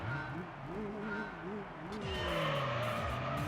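A car in Gran Turismo 3 launches from third gear at Laguna Seca, its engine revving and wavering while the tires spin and squeal, loud and continuous, with a voice talking over it.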